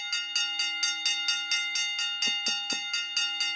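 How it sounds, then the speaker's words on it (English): A bell rings in a fast, steady train of bright metallic strikes, about four per second, clear and close, with a few low thumps partway through. "We must have the bell"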